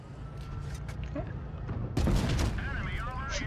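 A tank gun in World of Tanks Blitz fires with a heavy boom, followed by rumbling battle noise and whooshing effects.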